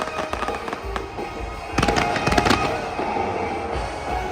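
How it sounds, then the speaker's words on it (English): Fireworks bursting over the bay in San Diego during Comic Con 2024: a run of loud, sharp cracks and booms, thickest in a cluster near the middle, over a steady outdoor background. "I followed the lights, the drone show, and the glittering fireworks until I found myself again at the bay"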